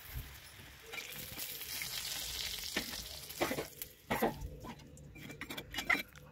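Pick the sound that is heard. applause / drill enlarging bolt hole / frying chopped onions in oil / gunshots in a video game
frying chopped onions in oil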